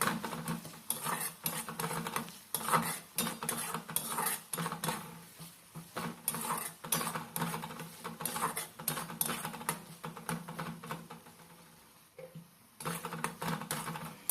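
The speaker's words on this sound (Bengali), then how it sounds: "এইভাবে নাড়াচাড়া করে মশলাটা ভালো করে তৈরি করে নিতে হবে" Egg bhurji masala being stirred in a pan, heard as rapid repeated clinks and scrapes of a utensil against the pan, close but fairly quiet, with a brief pause near the end and no talking.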